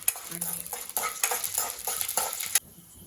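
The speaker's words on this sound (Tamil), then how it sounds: "முதல்ல கடலைப்பருப்பையும் போட்டு வறுத்துப்போம்" Chana dal roasts in a little oil, giving a close, crackling sizzle broken by repeated rhythmic scrapes of a spoon that end abruptly.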